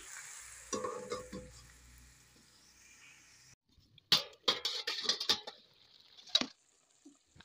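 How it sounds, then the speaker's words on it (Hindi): Sponge gourd curry frying in a pan is stirred: a low sizzle first, then a cluster of close, sharp scraping and clattering strokes of a spoon in quick bursts, fading to quiet. "इसे अच्छी तरह से चला करके ढक लेंगे।"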